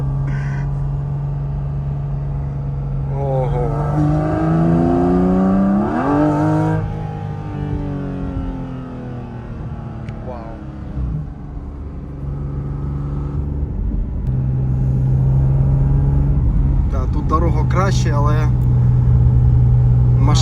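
A 2025 Porsche 718 Cayman GT4 RS engine drones and revs as it drives, with gear changes rising in pitch, while people talk over the steady interior rumble.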